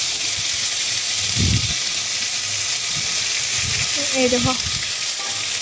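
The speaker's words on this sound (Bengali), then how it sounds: "তারপর আমি ঝিঙ্গেগুলি এটার মধ্যে দিয়ে দিলাম, তেলের মধ্যে জল ঝরিয়ে দিয়ে দিলাম।" Sliced ridge gourd sizzles in hot oil in a home kitchen, a steady frying hiss throughout, with a brief voice speaking over it near the end.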